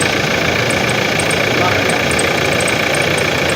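A Toyota Innova engine runs at a steady idle just after starting, with a constant close mechanical drone and a faint high whine throughout, and voices talk over it.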